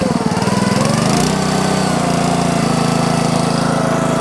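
A log splitter's small engine roars loud and close, its pitch climbing after about a second as the throttle is turned up, then holding a steady, higher drone.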